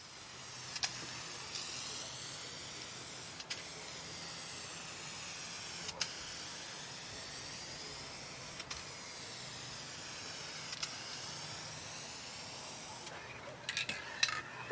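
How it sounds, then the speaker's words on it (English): Acrylic enamel clear coat sprayed from an aerosol can onto burnt wood, a long continuous hiss broken by several short pauses and sharp clicks, with faint rattling near the end. "This is an acrylic enamel clear coat."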